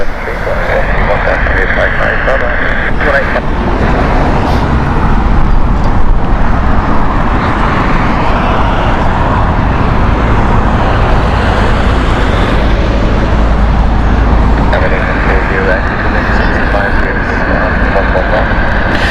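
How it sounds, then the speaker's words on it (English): An SAS Airbus A320neo arriving at Heathrow from Stockholm, a loud, steady jet roar that fills the whole stretch without easing, mixed with a broad rumble of airport and road noise. "SAS next inbound. This is the Airbus A320 Neo coming from Stockholm."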